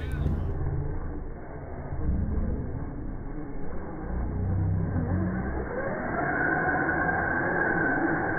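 A vehicle stuck in a mud hole at a Florida mud event, its engine revving loud and rising in pitch, with people shouting and talking over it.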